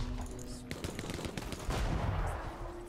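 Gunfire in the video game Partisans 1941: dense bursts of rapid shots and heavy impacts, loud and close, with a brief break before a second sustained volley.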